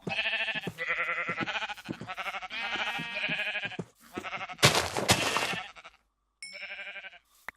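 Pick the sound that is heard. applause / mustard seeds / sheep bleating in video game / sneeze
sheep bleating in video game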